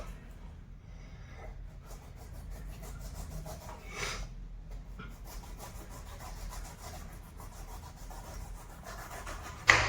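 A knife cutting through a pineapple, giving close, rough rasping strokes through the tough skin in uneven bursts with brief pauses between them.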